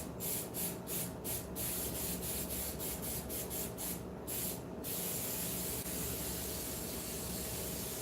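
Bed-liner-style textured coating sprayed in a string of short, rapid bursts, then a few longer hissing passes, all over a steady loud background roar, with no talking.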